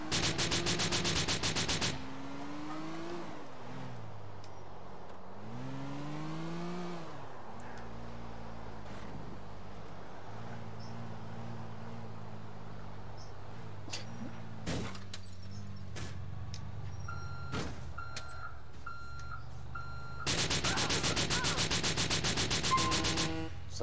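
A truck driving in GTA 4, with a low engine drone that rises and falls in pitch as it accelerates, bursts of loud broadband noise at the start and end, and scattered thuds and clicks in between.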